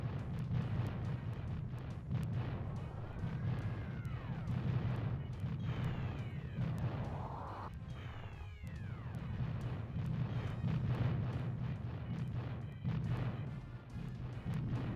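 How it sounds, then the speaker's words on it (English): A long rolling explosion in the N64 game Space Station Silicon Valley keeps going as a dense low roar under game music, with sweeping tones and repeated sharp bursts. "What an explosion."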